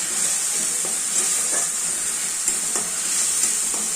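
Spice paste frying in a pan for a pabda fish curry, a steady bright sizzle with the soft scrape of a spoon stirring through it every second or so, close and continuous with no voices.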